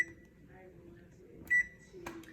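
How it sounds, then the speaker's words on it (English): An oven control panel gives a single short, sharp electronic beep as it is set to preheat to 350, with soft handling clicks nearby and quiet talk before it. "I'm gonna go ahead and preheat my oven to 350"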